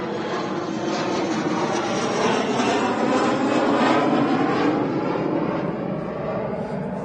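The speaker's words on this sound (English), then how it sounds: "Yeah, Logan Air Embraer." Loganair Embraer aircraft departing Manchester Airport, a loud sustained jet engine roar that holds steady and rises slightly midway, with no voices heard.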